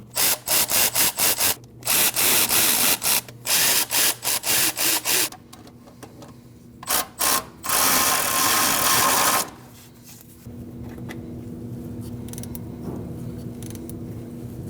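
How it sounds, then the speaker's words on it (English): Five 10mm valve cover bolts on a 2003-2008 Subaru Forester 2.5L H4 are run down in close, loud bursts of rapid mechanical whirring and ratcheting, then give way to a steadier, quieter mechanical hum. "You want to snug these 5 bolts down."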